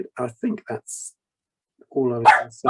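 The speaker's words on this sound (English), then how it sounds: "apologies about the dog" A pet dog barking in the background of an online webinar, a short burst of barks close to the microphone, mixed with someone speaking.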